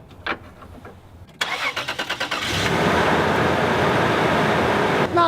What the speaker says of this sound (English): Listen to the engine. Check it out.